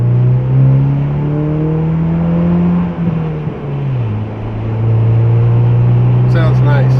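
A 2023 Ford Bronco Heritage with the 2.3L EcoBoost inline-four and a FlowMaster FlowFX muffler drones steadily nearby, its exhaust tone dipping and rising once as the revs change, with someone speaking over it.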